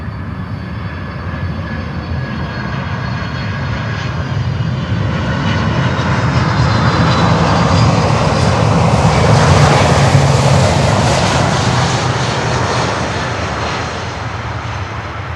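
A LATAM Boeing 767 passenger jet from Lima roars at Miami airport, its engine noise swelling loud and broad, peaking mid-way, then slowly easing as it passes.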